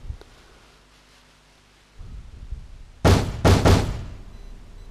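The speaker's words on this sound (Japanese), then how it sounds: "今にも壊れてしまいそうなドアを緑川は遠慮なく思い切り叩いた" Pounding on the door of a run-down apartment in the video game 428 Shibuya Scramble: after a low rumble, three hard, loud knocks land in quick succession and leave a short ringing decay.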